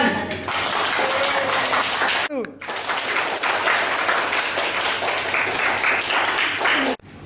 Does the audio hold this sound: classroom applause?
yes